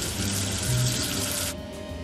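Water runs steadily from a tap while soap is rinsed off, a close hissing flow that cuts off abruptly near the end.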